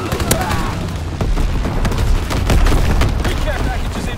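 Dense gunfire fills a Call of Duty WW2 battle with paratroopers descending, rapid cracking shots and booms overlapping continuously at close range, with a voice talking over the din.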